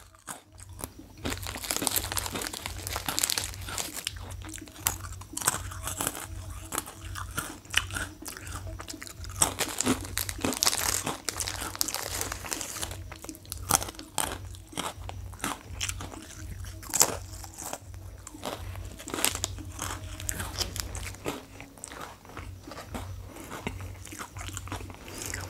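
Pretz bread sticks in Thai chili paste flavor being bitten and chewed close up, giving a long run of dry, brittle crunches and crackles at an uneven chewing rhythm, with no talking.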